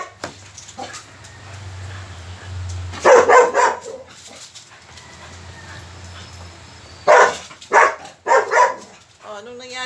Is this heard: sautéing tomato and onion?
no